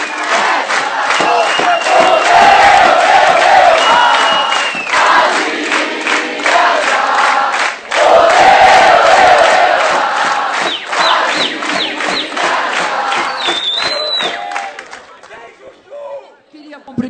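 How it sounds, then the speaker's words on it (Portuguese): A large crowd of students at a campaign rally with Dilma shouts and cheers loudly, with surging chant-like voices, brief dips and whistles, fading toward the end. "Padilha ficou por último, para vocês aplaudirem ele mais."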